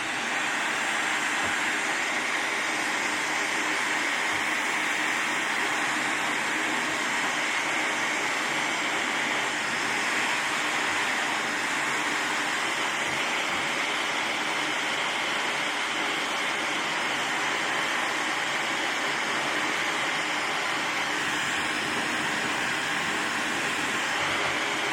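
Handheld hair dryer blowing steadily through a salon-style blowout with a round brush, a continuous broadband airy roar with a faint motor whine, close and loud, running unbroken with no talking.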